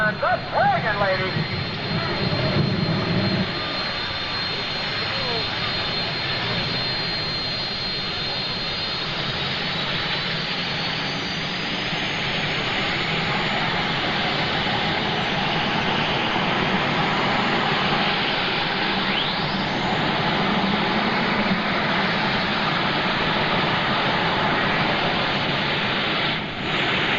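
A turbine-powered pulling tractor runs with a loud, steady jet-like roar that continues for the whole stretch at a 1995 NTPA Grand National pull in Fort Recovery, with an announcer's voice talking over it.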